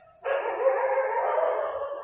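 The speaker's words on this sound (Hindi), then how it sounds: "क्योंकि कुत्ते भौंक रहे हैं गाइस।" A dog barks in the background, one drawn-out, fairly loud bark or howl that starts suddenly and holds for nearly two seconds.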